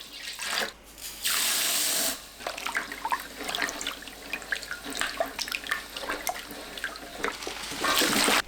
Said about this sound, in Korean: 물 4리터, 천일염 350g 넣고 소금을 녹입니다.